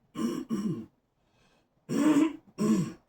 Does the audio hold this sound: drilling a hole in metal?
no